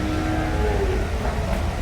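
At the Chelari livestock market, bulls and oxen give a low, drawn-out lowing call that carries steadily through dense crowd and market noise, with no clear break.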